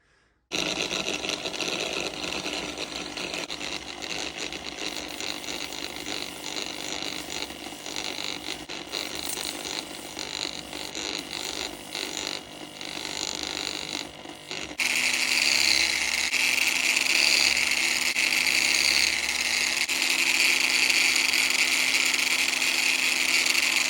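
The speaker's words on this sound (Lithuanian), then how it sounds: "Aš dažniausiai paimu 600 popierių jau naudotą ir ant kampinių šlifuoklių mažiausiam apsukom." An angle grinder at its lowest speed sands a motorcycle headlight rim with worn 600-grit paper, a steady buzzing whine with a rattling edge that jumps to a louder, brighter pitch partway through.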